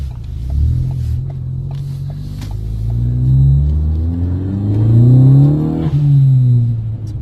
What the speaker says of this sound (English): Check out that blow-off valve from inside the cabin, inside the cockpit over here.